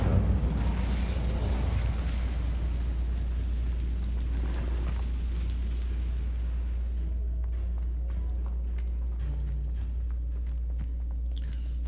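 An Incendio fire spell is cast in Hogwarts Legacy, with a low, rumbling burst of flame that swells and fades over several seconds. Soft footsteps and light clatter follow in a quieter space.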